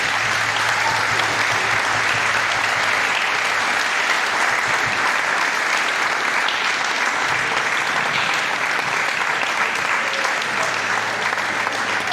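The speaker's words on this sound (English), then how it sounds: "can we get a applause for her?" An audience at a memorial concert applauds warmly, with dense, steady clapping from a large crowd filling the hall without a break for the whole stretch.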